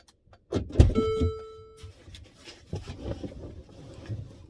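A car in motion carries a low, steady rumble, with a brief whine near the start, as if a power window or a nearby mechanism were running.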